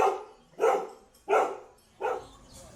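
Four sharp dog barks near a bar in Puerto Galera, Philippines, evenly spaced about two-thirds of a second apart, fairly close and moderately loud against a quiet background.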